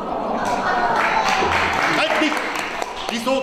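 An audience at a brass band show in Bad Waldsee claps along to a song, steady applause mixed with someone speaking over it.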